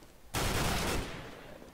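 A burst of gunfire in CS:GO, a sudden loud blast of shots that cuts in sharply and then decays into a fading echo, with no talking.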